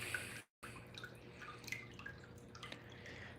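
Toilet tank refilling after a flush, a steady close trickle and drip of water running on without pause, with a brief dropout near the start.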